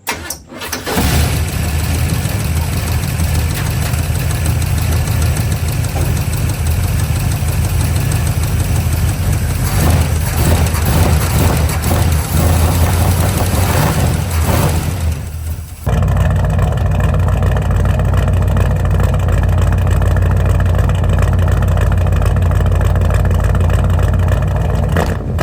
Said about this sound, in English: This should fire up and run now, and we should be able to listen to it run for the first time in the truck.